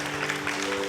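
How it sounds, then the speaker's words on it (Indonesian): A church congregation at a Christmas service applauds in a steady, dense wash that fills the room, with a low hum running beneath and no speech. "Tepuk tangan untuk BFA."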